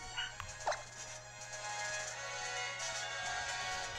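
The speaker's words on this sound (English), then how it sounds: "I hear puppies. Or a puppy, rather." A puppy gives a couple of short, high yips and whimpers near the start, fairly faint over a steady background hum from a Pokémon Ultra Sun game session.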